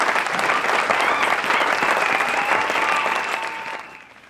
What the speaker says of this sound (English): join me for a virtual round of applause for our panel